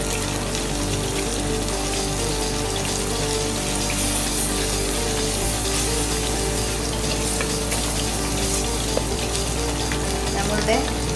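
Fish moly frying and being stirred in a pan with pepper and garam masala, giving a steady, close, continuous sizzle and bubbling throughout with no talk.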